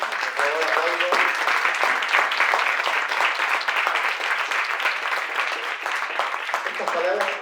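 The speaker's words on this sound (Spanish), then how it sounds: "Por favor, aplauso" An audience at an academic publishing event applauds steadily, many hands clapping in a dense continuous wash, with brief voices audible near the start and end.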